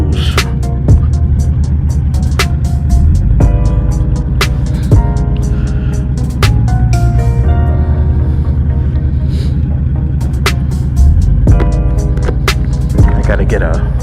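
A 2007 Honda VTX 1300 cruiser motorcycle runs at a steady low throb while riding on a chilly road, under strong wind buffeting. A rider talks intermittently over the engine.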